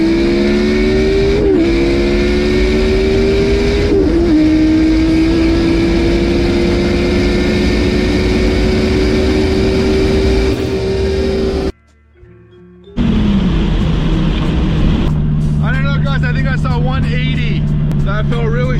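A Dodge Viper, running nitrous and no rear wing, roars at full throttle in a top speed run, its pitch climbing steadily with a brief gear-shift dip, then cuts out and resumes with lighter engine noise.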